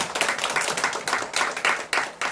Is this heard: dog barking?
no